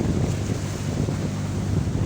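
Strong wind buffets the microphone on a boat at sea during Typhoon Inding, with rough waves churning in a constant, heavy low rumble.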